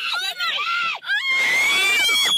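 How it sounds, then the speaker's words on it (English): A person screams loudly and shrilly in panicked bursts during a close encounter with a bear near a door, the high wavering cries nearly continuous with a brief break in the middle. "Hey, screaming!"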